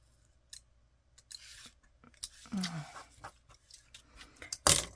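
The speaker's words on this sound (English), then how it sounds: "I'm going to start by trimming off that top" Scissors trim the top off a paper craft pocket in a few short snips and crisp cutting sounds, close by, with small handling rustles between cuts and a sharp final snip.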